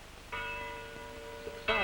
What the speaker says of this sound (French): Oh, les cloches.